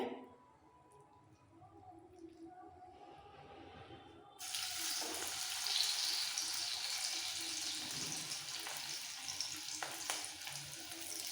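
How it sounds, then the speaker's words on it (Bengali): Cabbage pakora dropped into hot refined oil: quiet at first, then a loud, steady frying sizzle and hiss starts abruptly partway through and continues close-up to the end, with no voices. "রিফাইন অয়েল তেল ভালোভাবে গরম হয়ে গেছে এবার বড়ার আকার করে বাঁধাকপি ছোট ছোট করে দিয়ে দিতে হবে"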